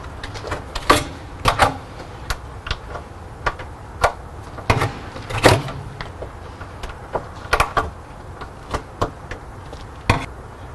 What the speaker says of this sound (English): We got to go ahead and pull the plugs out of each hole here so we can get the bolts in